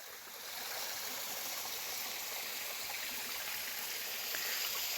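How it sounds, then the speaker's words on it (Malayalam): A small, low-water river in a misty forest at Velimalai in Kanyakumari Wildlife Sanctuary flows with a soft, continuous rushing wash, fairly faint and unchanging throughout with no voices. "പിന്നെ കണ്ടോ ഇതുവഴി ഒരു നദി പോലെ ഇങ്ങനെ ഒഴുകി പോകുന്നുണ്ട്,"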